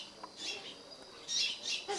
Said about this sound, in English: Over there in the background you can hear her birds.